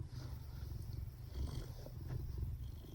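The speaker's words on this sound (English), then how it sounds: "If you hear a little purring" A low, rumbling purr vibrates close up, a soft continuous rattle rising and falling with each breath.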